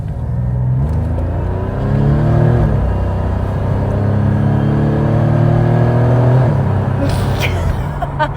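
A Buick GNX launches hard from a standstill, its engine note climbing loudly through the revs in a sustained, close roar with a brief shift-like dip, while people talk and laugh inside the car.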